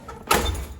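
A squeaky metal door that needs excessive force to open gives a single short, sharp scraping creak as it swings, close by and fairly loud.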